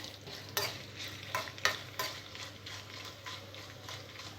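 Fenugreek, cumin and mustard seeds sizzling in hot oil with fried dried red chillies for a mint pickle, a faint crackling fizz punctuated by several sharp spoon scrapes and taps against the pan.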